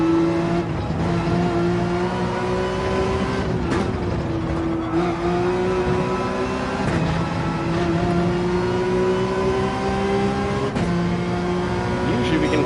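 A Red Bull race car in Gran Turismo 7 roars with a loud, continuous engine note that rises and dips as the revs change, with brief shifts in pitch and no pause throughout.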